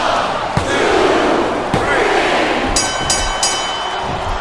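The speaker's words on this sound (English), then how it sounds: "I love hearing the crowd come alive" A large video game wrestling crowd in WWE Smackdown vs RAW 2007 roars steadily throughout, with chanting and cheering swelling over a broad noisy wash, punctuated by a few sharp thuds.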